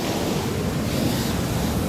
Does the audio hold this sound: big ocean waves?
yes